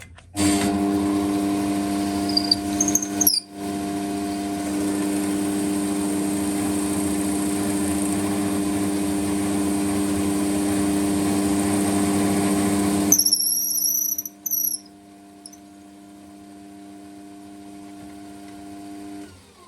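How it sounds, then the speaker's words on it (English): A lathe spins a pipe blank while a Forstner bit drills it, giving a loud, steady whining drone with a high squeal, then cutting off abruptly to near silence. "So that's all I'm going to do with that Forstner bit"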